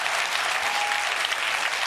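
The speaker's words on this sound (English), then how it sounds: "Yeah, you can applaud that." An audience at a political satire comedy show applauds in a steady, even burst of clapping lasting about two seconds, moderately loud with no talk over it.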